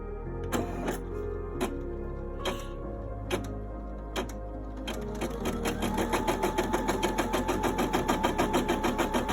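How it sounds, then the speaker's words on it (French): A Brother M240ED embroidery machine stitches on its own, giving a steady mechanical whir with rapid rhythmic needle ticking that speeds up and grows denser partway through, close and fairly loud, with no talking. "la brodeuse va travailler toute seule pendant 4 minutes"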